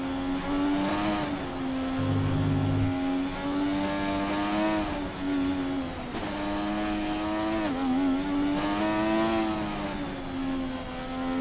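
Formula 1 race car engine in the F1 2020 game at the British Grand Prix, a loud high-revving whine climbing and dropping through gear changes, continuous and close.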